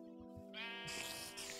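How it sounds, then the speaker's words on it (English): Sheep in the Cube Survival video game lets out a single drawn-out bleat, fairly close and clear, over a faint background. "Get out of there, sheep."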